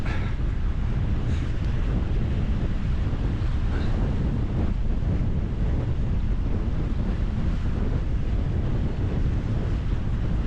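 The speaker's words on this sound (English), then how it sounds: "I apologise about the wind." Strong wind buffets an exposed riverside microphone on the River Humber on a November morning, a constant loud roar with low rumbling gusts throughout.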